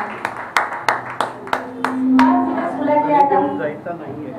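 Hands clapping at a Navaratri festival gathering in a community centre, a series of sharp, regularly spaced claps from a small group, with voices talking over and after them.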